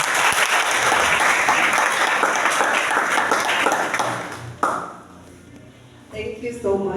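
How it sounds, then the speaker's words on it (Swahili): A church congregation applauds loudly with dense, sustained clapping that fades out partway through, leaving a quieter room with a few voices near the end. "Tujipigie makofi."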